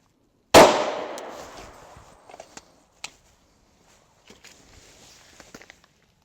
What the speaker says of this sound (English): I'm going to be shooting at this fresh area just to see if we have the same result or not.